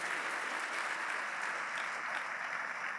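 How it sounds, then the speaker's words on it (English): A crowd claps at a scholarship ball, producing an even, sustained wash of applause from a large audience heard at moderate distance with no talk over it. "You can clap for that."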